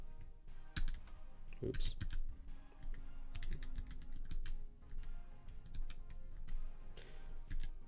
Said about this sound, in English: getting used to my split keyboard again is beyond me right now